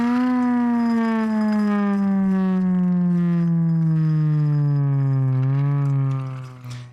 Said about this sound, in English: that's the finest air raid siren that Temu Chinesium can buy